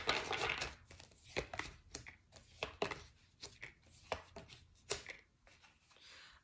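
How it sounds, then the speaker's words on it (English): A deck of tarot cards is shuffled close up in a quiet room, giving a series of irregular papery riffles, flicks and taps with short pauses between bursts. "Let's do one more shuffle."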